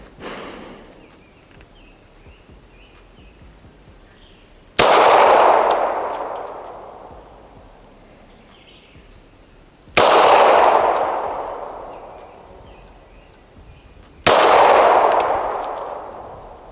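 Gunshots ring out at an outdoor shooting range, fired at a 20-yard target: four sharp, loud reports spaced several seconds apart, each followed by a long decaying echo.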